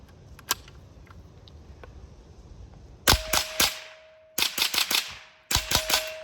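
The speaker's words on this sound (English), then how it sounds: "this is the supersonic ammunition going through a suppressor on the Bergara carbon fiber" Suppressed supersonic rimfire rounds from a Bergara carbon fiber BXR rifle strike steel targets. Three quick bursts of sharp cracks and ringing metallic pings come after a quiet outdoor lull, each burst holding several rapid shots.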